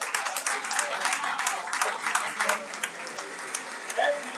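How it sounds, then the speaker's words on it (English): An audience applauds a runner-up school at a founder's day debate results announcement, steady moderate clapping from a hall that holds throughout, with voices faintly mixed in. "Let's clap for them."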